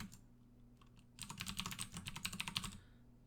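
Close, quiet typing on a computer keyboard while writing code: a few scattered keystrokes at first, then a dense burst of rapid clicking that stops abruptly, with low steady hum underneath.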